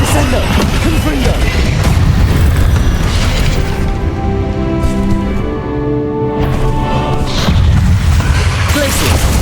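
In the Hogwarts Legacy video game, a blasting spell goes off as a loud, continuous booming explosion that rumbles and crackles through dense battle noise, with no clear break for the whole stretch.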